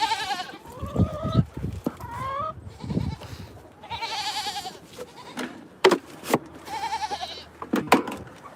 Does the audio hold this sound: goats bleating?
yes